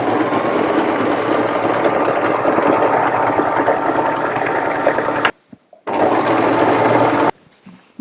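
A sewing machine stitches straight lines through fabric, running with a loud, steady mechanical whir, then stops briefly and starts again before a final stop.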